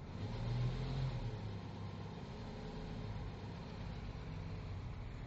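A Jeep Wagoneer engine runs with a rough, mid-pitched rumble, strongest at the start and then settling into a steady, uneven idle, heard alone and moderately close.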